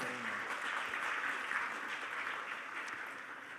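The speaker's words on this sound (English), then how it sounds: "Please give him a big round of applause" Steady, faint applause rises from an audience at a climate change conference session as the moderator is introduced, a continuous wash of clapping heard from a distance.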